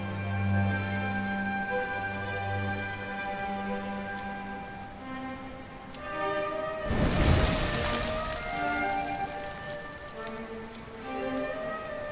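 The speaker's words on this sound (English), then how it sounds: "Looks like the rain's dying down." Steady rain patters on surfaces in a Dragon Quest XI S game scene, with a soft music bed throughout and a brief louder swell of rain noise partway through.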